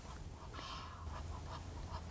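Egyptian geese at a wildlife game count give several faint, scattered honks over a low steady background rumble.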